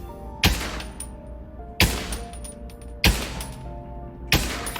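Four evenly spaced gunshots from a VR shooting game, each a sharp, loud crack with a brief ringing tail, fired steadily at about one-second intervals over a low background hum.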